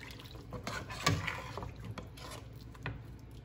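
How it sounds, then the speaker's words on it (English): A spoon scrapes and stirs through a thick beef rib stew with sweet potato in a pot, close and quiet, with soft wet rubbing strokes and a few clinks. "I'm gonna stir that in there"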